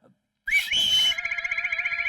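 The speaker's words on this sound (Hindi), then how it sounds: "उसने सीटी बजाकर जवाब ये दिया।" A whistled reply attributed to a chameleon in a comedy film scene: a single sharp rising whistle that settles into a sustained warbling trill, close and clear, after a brief quiet start.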